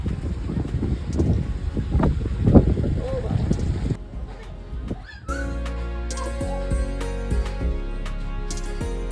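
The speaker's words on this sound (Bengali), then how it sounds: "কনস্ট্যান্ট একদম ওই বরফের হাওয়া, প্রচণ্ড হাওয়া, উইন্ডি আর কি" Strong cold wind in Marpha village, Nepal, buffeting loudly in gusts before dropping to a steadier low roar with a hum, while someone talks.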